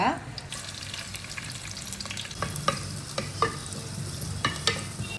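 Chopped onion frying in hot oil for a fish curry, a steady close sizzle with intermittent scraping clicks from stirring in the pan; no voices.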